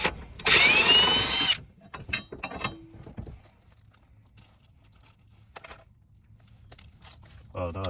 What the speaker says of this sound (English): I'm gonna use my impact with the adjustable